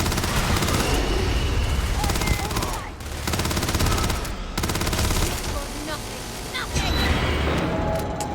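Gunfire in a Starfield firefight, rapid bursts of automatic shots in several long volleys broken by short pauses, loud and close, with a voice talking over the shooting.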